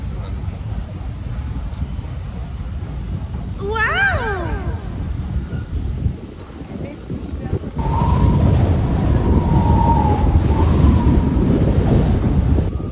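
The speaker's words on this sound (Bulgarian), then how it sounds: "Къде идва този вятър?" Strong wind buffets through a train station in Rome, a loud broadband roar rising sharply partway through, with people talking nearby and a brief squealing sound earlier.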